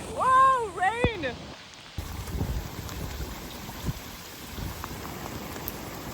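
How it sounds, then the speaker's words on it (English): Heavy rain pours down during a backpacking trek near a washout on New Zealand's Queen Charlotte Track, a steady dense hiss after an opening burst of loud wind-like sound, with faint scattered drops throughout. "Whoa, rain."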